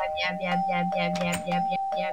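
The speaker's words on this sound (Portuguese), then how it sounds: "Calma, Sasuke, não fica tocando agora a campainha." A doorbell rings repeatedly in the Minecraft video game, a loud, bright run of ringing chime tones pressed several times in quick succession over a sustained tone.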